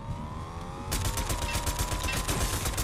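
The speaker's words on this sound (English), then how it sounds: "someone sniped at me" Rapid gunfire in the Fortnite video game, sniper rifle shots cracking out in a dense burst after a brief lull of ambient noise, loud and close with overlapping echoing reports.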